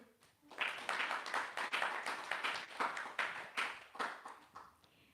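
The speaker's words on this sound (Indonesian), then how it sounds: "Tepuk tangan saudaraku." Audience applause breaks out at a gathering, a dense burst of many hands clapping that swells quickly, holds for several seconds and then fades, fairly close with no talk over it.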